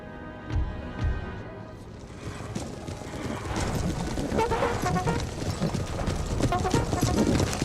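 Cavalry horses galloping across a battlefield in the strategy game Empire: Total War, with a few early hoof thuds swelling into a dense, continuous rumble of mixed battle noise that grows louder toward the end.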